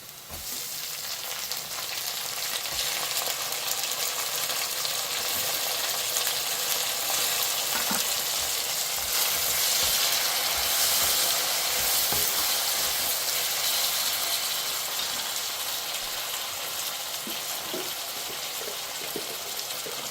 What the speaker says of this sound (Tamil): இப்போ வெங்காயம் நல்லா சுவத்து வந்துட்டுது. நாங்கள் இப்போ வெட்டி வச்ச தக்காளி பழத்தை போடுவோம்.